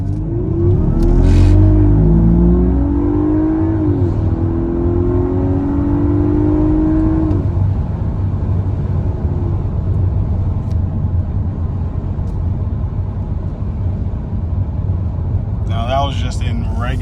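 A 2021 Audi A5 Sportback accelerating in regular drive mode: the engine note climbs steadily and then levels into a sustained cruising drone, heard from inside the cabin. Speech is present throughout.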